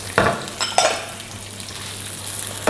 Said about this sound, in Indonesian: kita tumis aja semua.